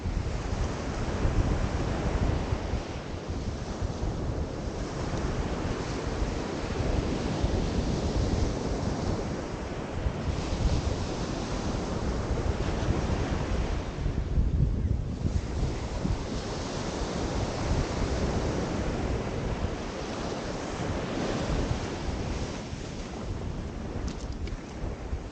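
Waves roll and break continuously on a beach at Aberaeron on Cardigan Bay, with heavy wind buffeting the microphone throughout, and nobody speaks.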